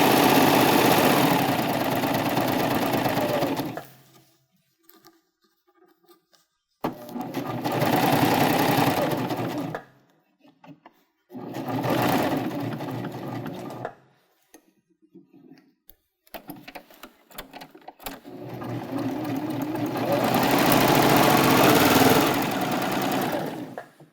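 Serger overlocking the bottom edge of a drawstring backpack bag, a loud, fast whirring hum in four separate runs of a few seconds each, broken by short quiet pauses with faint handling noises.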